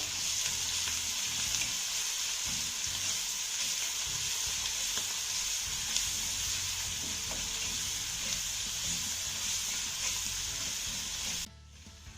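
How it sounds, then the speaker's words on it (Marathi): A garlic and crushed green chili tempering fries in hot oil in a pan, giving a steady, close, continuous sizzle with faint stirring scrapes and no talking. "आता ही फोडणी आपल्याला अर्धा मिनिटं चांगली परतून घ्यायची आहे"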